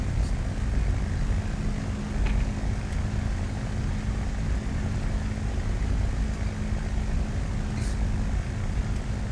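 A Hawker Hurricane Mk I flying formation practice drones at reduced throttle, a steady, loud, low propeller and engine roar holding evenly throughout with no break.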